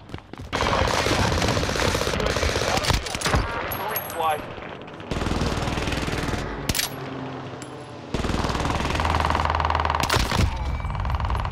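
Heavy automatic gunfire from an AR-ammunition rifle in a video game, loud sustained bursts with brief pauses between volleys and muffled thuds, under faint game noise.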